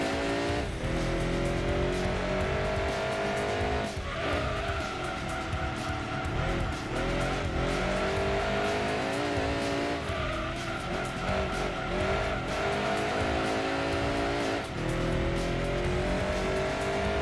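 A racing car laps Grand Valley in Gran Turismo 2, its engine droning steadily and loud throughout with shifting pitch and tire squeal, no talk over it.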